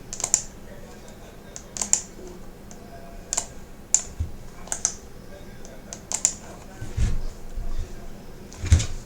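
Someone types a SQL select query on a computer keyboard in SQL Server Management Studio: quick, crisp key clicks in uneven bursts with short pauses, close and fairly quiet.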